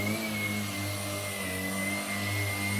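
A Shark PowerDetect IP3251UKT cordless vacuum cleaner runs in its default medium mode, producing a steady, loud motor drone with a low hum and a high whine, unbroken and without speech.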